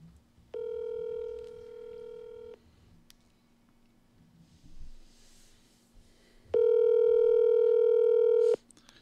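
An outgoing phone call ringing out, with two long, steady ringback tones separated by a few seconds of quiet and faint background shuffling.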